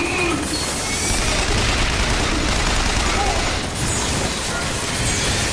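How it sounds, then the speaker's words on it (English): Sustained gunfire in the video game BioShock Infinite, a continuous dense barrage of shots and booms with no pauses, loud and cluttered throughout. "Gotta keep shooting."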